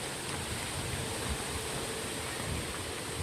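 Strong wind blows steadily past the microphone outdoors, a constant loud rushing roar with no pauses for the whole stretch.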